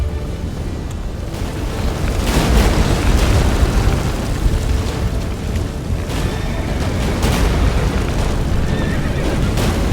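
A horse whinnies amid a dense, rumbling soundscape from The Witcher 3: Wild Hunt with booming impacts and clattering, all loud and continuous without speech.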